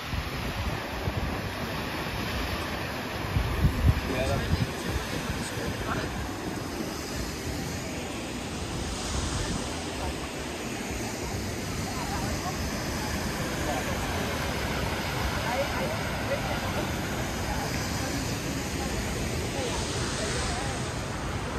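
A steady, broad roar of rushing water fills the whole stretch, constant and unbroken, from the Öxarárfoss waterfall in Iceland heard nearby, with some wind buffeting.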